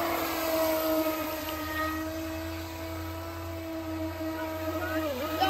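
A high, steady motor whine from a fast RC racing boat drones continuously, shifting pitch slightly as it moves, with faint background noise and no talking.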